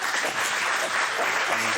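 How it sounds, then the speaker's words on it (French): Studio audience applauding during a French televised political debate, a dense, continuous wash of clapping with no pauses. "Les applaudissements là"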